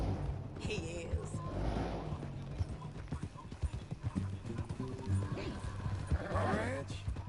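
A horse in Red Dead Redemption 2 clops its hooves steadily and whinnies briefly, close by, beneath people talking.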